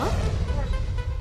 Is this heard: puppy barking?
yes